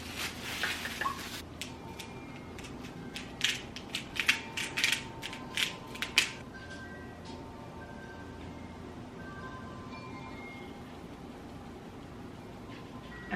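Pepper mill grinding over seasoned chicken pieces, a run of quick crunchy cracking twists lasting a few seconds, close and quiet, then fading into faint kitchen background.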